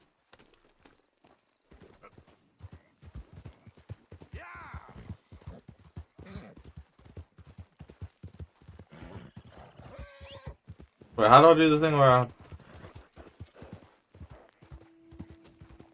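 Horse hooves clip-clop in the Red Dead Redemption 2 video game, a steady run of hoofbeats under sparse talking, with a loud neigh cutting through partway along.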